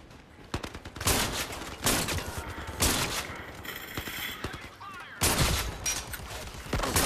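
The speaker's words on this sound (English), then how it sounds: "Ah, turrets." Turret gunfire in Zero Caliber VR rattles out in loud, sustained automatic bursts, several long volleys separated by short pauses, close and dominant.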